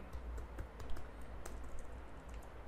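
Fingers type a file name on a computer keyboard, a steady run of quiet, quick key clicks with a few sharper taps, heard alone with no talking.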